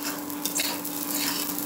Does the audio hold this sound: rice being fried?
yes